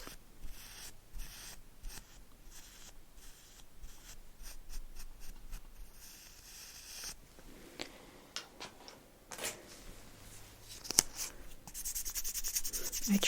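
Wax is worked onto eyebrows during an ASMR waxing session, with soft close-up scratchy strokes and small taps in an irregular rhythm, quiet and intimate.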